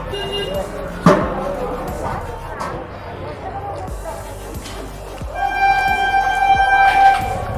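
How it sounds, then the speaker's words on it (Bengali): A train approaches nearby, its rumble and rattling wheels building toward the end while a horn-like tone sounds, with people talking throughout and a sharp clatter near the start. "ট্রেন আসছে, ওয়েট।"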